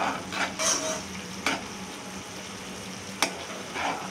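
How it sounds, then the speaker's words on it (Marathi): A spoon stirs palak paneer gravy in a pan with a soft, steady sizzle. A few sharp clicks of utensil against metal cut in along the way, and no one speaks. "आणि परत चांगलं ढवळून घ्यायचं"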